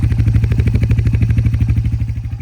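A small Suzuki Ozark ATV engine idles steadily with a fast, even putter and light mechanical clatter, close by and fairly quiet, with no talking over it.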